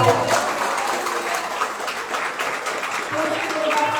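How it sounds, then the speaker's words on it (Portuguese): A church congregation at a women's congress claps for the Lord, a dense stretch of steady applause filling the room throughout with a voice faintly mixed in. "Você pode aplaudir ao Senhor?"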